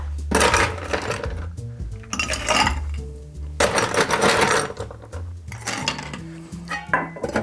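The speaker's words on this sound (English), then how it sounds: "All right, so what we're gonna do is we're gonna grab some ice." Ice scooped and dropped into a mixing vessel for a vodka cocktail, loud close clattering and clinking in several bursts with rattling cubes throughout.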